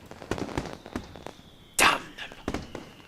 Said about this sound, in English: Sparking traces arc upwards, ready to explode in the floral shapes of fireworks.